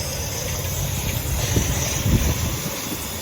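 A miniature steam locomotive on the Romney, Hythe and Dymchurch Railway pulls in, heard as a steady low rumble and chuffing with wind buffeting the microphone and a faint high whine above.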